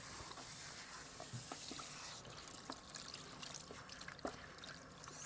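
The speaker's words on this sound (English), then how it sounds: "So rinse until right in your bowl it runs clear" Water rinses shampoo out of hair into a bowl, a faint, steady trickle with scattered small drips and splashes, close by and continuous.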